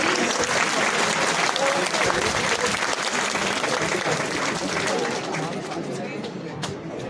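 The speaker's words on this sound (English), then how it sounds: "round of applause, everybody" An audience at a cyber-attack prevention seminar claps loudly and continuously, thick applause that tapers slightly near the end, with faint crowd murmur mixed underneath.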